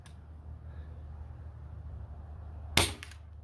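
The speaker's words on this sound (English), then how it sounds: "And last shot of the dragon darts." A single sharp dragon-dart shot from an air gun, a sudden crack late in the clip after a quiet hum, followed by a short trailing sound.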